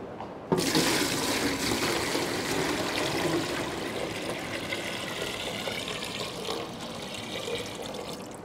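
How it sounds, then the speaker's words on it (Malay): Lake water is poured into glass containers for a lab experiment, a steady rushing, splashing stream that starts abruptly and runs continuously for several seconds, close and fairly loud. "masukkan 5 liter air tasik ke dalam setiap bekas kaca berlabel A"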